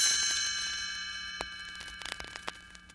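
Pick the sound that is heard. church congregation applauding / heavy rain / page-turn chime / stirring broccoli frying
page-turn chime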